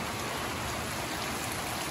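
Heavy monsoon-season rain pours down steadily, a dense, loud, unbroken hiss of water on surfaces with no voices.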